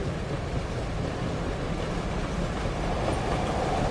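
A passenger train in motion, heard from inside a carriage as a steady, unbroken rumble and rushing roar that stays loud and even throughout, with no voices.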